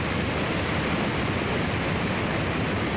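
Dense static white noise closes a track, the final song on an album. The hiss is loud and unbroken, filling the whole span evenly.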